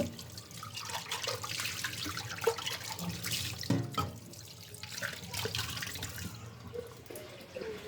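Water runs steadily from a household tap into a sink, a continuous splashing rush with small gurgles and drips throughout, fairly close and alone.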